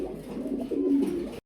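A pigeon held up at a breeder's farm gives a short, close, low cooing burble that swells near the end and then stops abruptly, with no talking.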